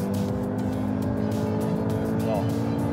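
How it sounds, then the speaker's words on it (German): A 625 hp V8 sports car accelerates hard, its engine drone steady and loud under a voice speaking over it. "Kann der V8 mit 625 PS das Ruder herumreißen?"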